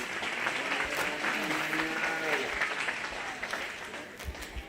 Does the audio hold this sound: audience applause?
yes